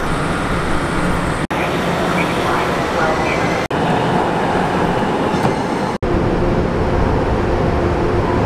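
Steady loud rumble and rail noise from a San Diego trolley riding toward 12th and Imperial, heard from on board with continuous roar and a few abrupt cuts, voices faintly mixed in.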